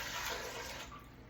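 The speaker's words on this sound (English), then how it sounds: "700 grams of water." Water pours steadily into a bowl for sandwich bread dough, a soft, brief hiss and splash with no talking.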